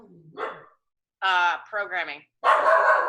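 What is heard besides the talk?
dog barking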